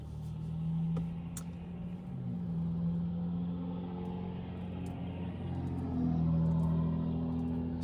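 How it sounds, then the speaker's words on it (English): Steady low engine rumble of a car with a loud exhaust in need of a new muffler, heard on a drive around the east end of Owen Sound, Ontario, droning continuously and swelling slightly near the end. "Somebody needs a new muffler."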